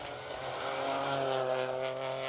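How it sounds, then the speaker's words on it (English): A Ford Fiesta R2T rally car's steady engine drone holding a strained, uneven pitch at high revs on an asphalt stage, fairly close, with no voices. "Sounds like a strange engine note on that Fiesta, doesn't it?"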